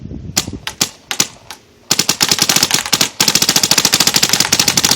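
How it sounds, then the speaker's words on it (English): Paintball gun firing Valken Infinity rec paintballs at a trash can: a few separate pops, then rapid bursts of sharp shots with impact smacks, close and loud, no talking. "Just go ahead and shoot the trash can."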